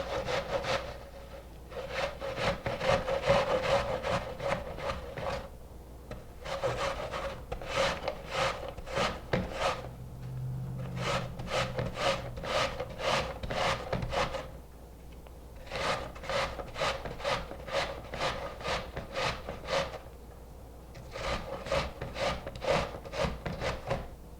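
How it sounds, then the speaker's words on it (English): An apple being grated by hand on a grater, brisk rhythmic rasping strokes in quick bursts separated by short pauses, close and clear with no talking. "I'm going to grate one apple."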